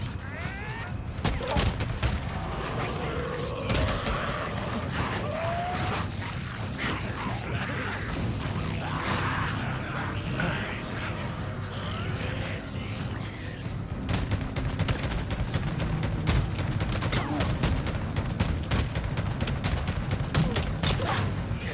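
Rapid bursts of gunfire ring out in the zombie-survival video game Days Gone, dense and continuous under a steady low rumble of game ambience, with louder volleys in the second half.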